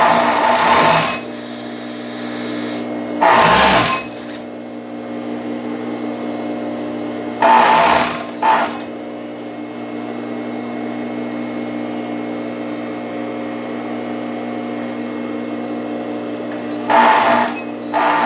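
Sewing machine stitching the side seam of a knit-fabric palazzo jumpsuit, running in several loud whirring bursts separated by a quieter steady hum, with no talking.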